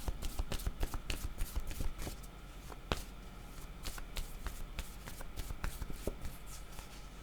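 Tarot-style cards are shuffled steadily for a card reading, a rapid run of soft riffling slaps and taps throughout, close and fairly quiet.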